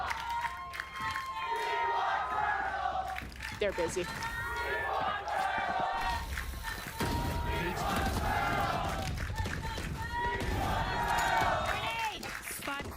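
A big crowd at the VCT Americas Kickoff esports event cheers and roars without letup, swelling in waves, while voices talk over the noise.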